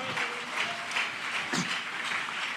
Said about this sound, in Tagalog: malakas na palakpak para sa mahal na Panginoon